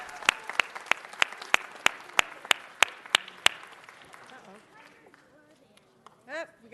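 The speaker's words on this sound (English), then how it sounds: "Give them a round of applause." At a city council meeting, a small group claps in a sparse, regular run of sharp, distinct hand claps that thin out and stop after a few seconds, followed by faint room noise and a brief voice.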